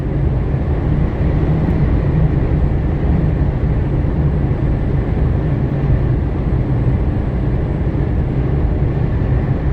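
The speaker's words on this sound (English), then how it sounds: "So I can hear the wind noise. It's a bit windy." Steady wind roar buffets the cab of a Mercedes Actros truck in windy weather, a dense, unbroken rumble heavy in the low end that holds at the same loudness throughout with no voices.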